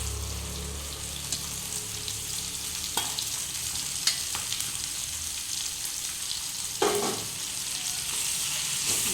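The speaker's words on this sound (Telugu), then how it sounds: "కొంచెం ఫ్రై చేసుకోవాలి." Washed mint leaves fry in a pan with a low, steady sizzle, punctuated by a few sharp scrapes and knocks from stirring.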